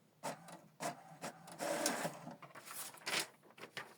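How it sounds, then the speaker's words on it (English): An HP printer runs off a printer information page during wireless setup, giving a close series of mechanical whirs, clicks and feed bursts that rise and fall in an uneven rhythm, with no speech. "they will print out information"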